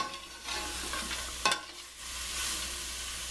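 Chicken and vegetables with peppers sizzle in a pan while being stirred, a soft steady frying hiss broken by scraping stirs and one sharp clack of utensil on pan, fairly quiet.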